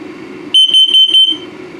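Carbon monoxide alarm on a 2022 Palomino Puma 28DBFQ RV during a test, sounding four quick, loud, high-pitched electronic beeps in a rapid burst.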